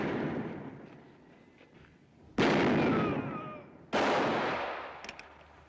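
Two loud rifle shots ring out in an old cowboy western, each a sudden, sharp blast with a long echoing decay over a rough, noisy background.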